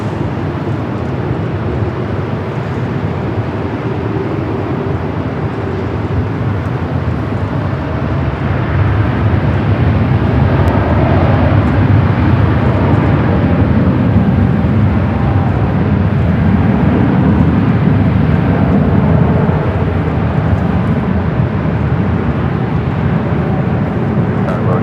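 A United airliner takes off from runway 24 left at LAX, a broad continuous jet roar that swells after the first few seconds and holds steady and loud to the end.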